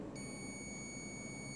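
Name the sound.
multimeter continuity test beep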